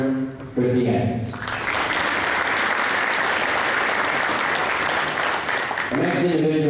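Steady, full applause from a crowd at an FFA banquet honoring a dairy production entrepreneurship award winner, with a voice talking briefly before and after the clapping.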